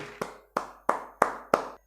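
Five sharp, evenly spaced claps ring out, each decaying quickly, like a small burst of applause welcoming a poet at a kavi sammelan.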